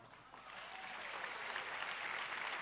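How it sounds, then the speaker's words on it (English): An audience at an event in Penang applauds, a steady wash of clapping that swells slightly and holds at a moderate, somewhat distant level throughout. "Please give him a round of applause."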